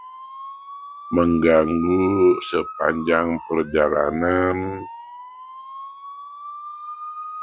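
A slowly rising, steady siren tone from an ambulance on a night pickup runs through the whole stretch, while someone talks over it for several seconds in the middle.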